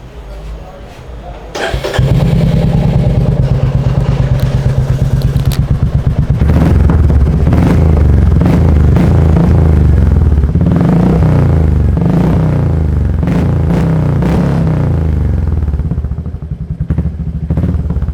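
A Royal Enfield Classic 350 fitted with an aftermarket silencer fires up after a quiet moment, then settles into a loud, deep, thumping idle with a few throttle blips, close to the exhaust.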